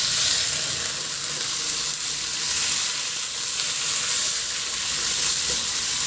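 Thin slices of chicken breast, 250 grams, sizzle in a hot pan for chop suey, a steady, dense bright frying hiss with faint crackles throughout, close and continuous without talk.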